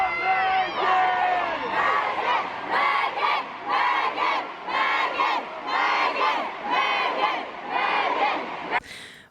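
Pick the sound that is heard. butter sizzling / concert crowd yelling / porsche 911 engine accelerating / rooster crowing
concert crowd yelling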